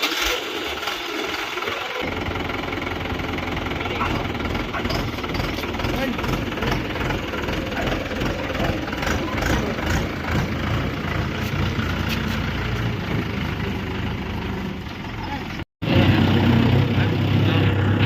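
A tractor engine runs loud and steady with a rough, knocking throb at a village festival, while people talk over it throughout.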